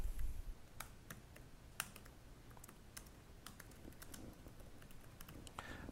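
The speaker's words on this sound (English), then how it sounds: "I was typing loudly." Typing on a computer keyboard makes sparse, quiet, irregular clicks and taps at close range over a faint background hum.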